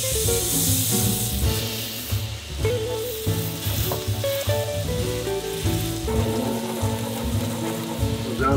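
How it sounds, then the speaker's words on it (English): Steady hissing sizzle of butter in a hot pan, continuous and fairly close, with music playing underneath throughout. "Go get that butter, it's sizzling."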